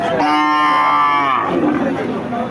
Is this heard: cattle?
yes